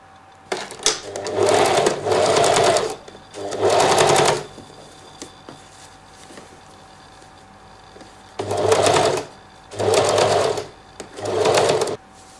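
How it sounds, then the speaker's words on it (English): Sewing machine stitching the lining of a coat sleeve, delivering several short bursts of rapid mechanical whirring separated by quiet pauses, close and clear. "Make sure you're sewing near the edge so you don't sew into your actual sewing line"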